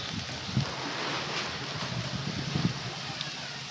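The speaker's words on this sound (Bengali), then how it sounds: "প্রচন্ড প্রচণ্ড ঝোড়ো হাওয়া দেখো কি অবস্থা হলো" Strong stormy wind gusting on a roadside on the way to Sikkim, a steady broadband roar with buffeting bursts against the microphone, continuous throughout.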